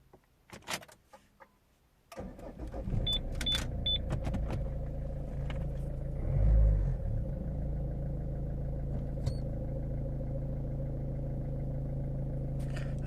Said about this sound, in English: Now we will try to start the car and see if there is any difference.